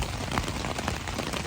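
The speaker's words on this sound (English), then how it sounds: "I don't think that I've stayed out in a tent and rain this bad before" Heavy rain pours steadily on a tent on the Appalachian Trail, a dense, constant hiss with pattering drops hitting the tent close by.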